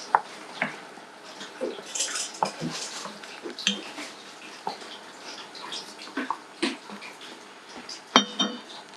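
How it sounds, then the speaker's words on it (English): Metal spoon clinks and scrapes around inside a pot of boiling water for dandelion coffee, with soft sloshing between the irregular taps, close by and fairly quiet. "Stir it around a little bit."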